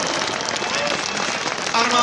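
Stadium crowd applauding to honour war veterans before a Kometa versus Plzeň open-air match, a dense, steady wash of clapping that swells slightly louder near the end.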